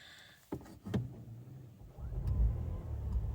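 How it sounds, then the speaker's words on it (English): Toyota Yaris hybrid starting up: a few sharp clicks and knocks inside the cabin, then the engine fires into a steady low rumble that grows louder and holds. "Let me start the car actually."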